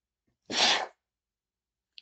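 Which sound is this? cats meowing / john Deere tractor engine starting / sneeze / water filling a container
sneeze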